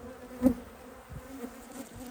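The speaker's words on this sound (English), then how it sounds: "The bees aren't really too happy." Honeybees hum at an opened hive on an October morning, a continuous close drone with one louder buzz as a bee passes near.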